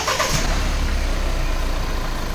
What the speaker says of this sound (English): Let's hear out the diesel motor.